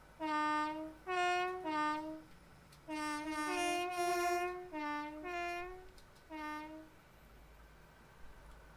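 An HST high speed train in a train simulator game sounds its two-tone horn in a series of separate blasts, with one longer blast in the middle, clear and prominent over a quiet rail background.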